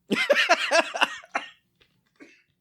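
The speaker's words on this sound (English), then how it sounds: "Oh, I got a cough." A quick burst of several harsh, raspy coughs in a row, close and fairly loud, followed by a faint throaty sound after a pause.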